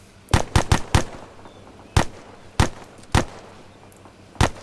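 Sharp, loud gunshots in the ArmA 3 video game: a quick cluster of four rapid shots, then single spaced cracks, alone without talk.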